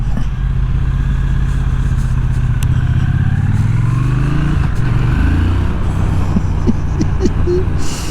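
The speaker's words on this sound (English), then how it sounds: "the engine sounds fantastic as well" A 2025 Triumph Speed Twin RS engine under way, a loud continuous low drone mixed with wind rush, its pitch rising as it accelerates, and light clatter near the end.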